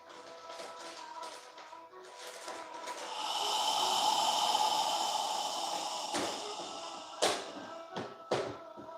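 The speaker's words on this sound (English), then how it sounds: "squeeze out all of the air. Follow your breath." A slow, deep yoga exhale pushes air out in a long, steady breath that swells, then fades. A few soft taps or knocks follow near the end. No one speaks.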